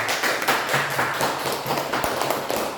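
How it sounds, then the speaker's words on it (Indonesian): Applause from a classroom of students, a dense patter of many hands clapping at steady loudness for a few seconds. "Beri aplaus dulu untuk temannya."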